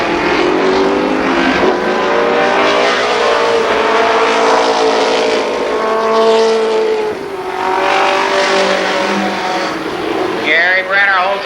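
Race cars charge around Columbus Motor Speedway during a short ten-lap race, engines roaring and revving continuously as the pack passes. An announcer talks over the noise throughout.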